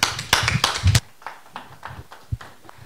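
Applause at a student thesis poster award ceremony: a burst of close hand claps for the first second, then thinning to scattered individual claps and taps.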